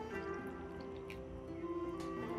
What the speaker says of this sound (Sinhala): වතුර කෝප්ප කාලක් වගේ දාලා